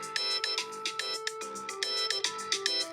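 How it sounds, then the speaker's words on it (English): A mobile phone ringtone plays a bright, repeating electronic melody of short chiming notes in a steady rhythm, clear and prominent with no talking over it. "That was the ringtone."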